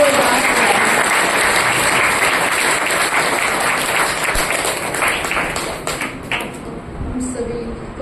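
A crowd at a Brahma Kumaris honour ceremony in New Delhi gives loud, dense applause in welcome. The clapping is sustained, with voices mixed in, then thins out and fades near the end.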